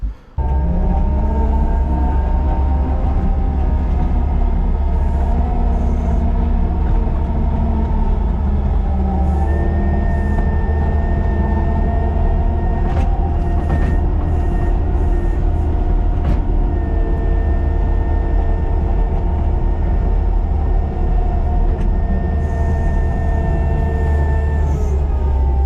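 An excavator engine warming up on a snowy winter work site drones with a steady, loud, low rumble and idle hum that holds evenly throughout, with a few faint clanks on top.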